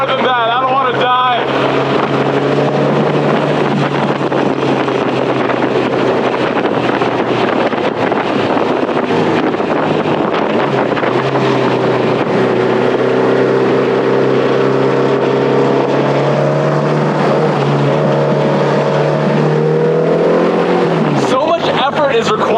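A 1950s Porsche 550 Spyder with 168 horsepower and a 1,500-pound body accelerates uphill, its engine a loud, close drone climbing steadily in pitch through the run, with wind buffeting and a brief shift near the end.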